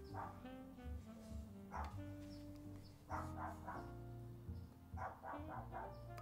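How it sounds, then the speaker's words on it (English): A neighbor's dog barks repeatedly in bursts from somewhere off to the side, heard over an indoor electronics build with steady background hum. "Oh, neighbor's dog, please."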